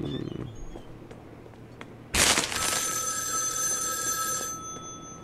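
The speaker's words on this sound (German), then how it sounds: "Das Telefon klingelt." A telephone rings loudly and continuously in the restaurant game Joe's Diner, a bright electronic trill starting abruptly partway through after quiet background sounds.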